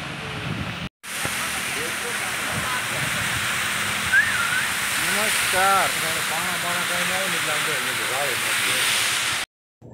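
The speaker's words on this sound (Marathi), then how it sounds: "आता हा धबधबा बघा, या धबधब्याचं सौंदर्य." A waterfall at Saptashrungi fort roars as a steady, loud rush of falling water, with a voice talking over it and vehicles nearby.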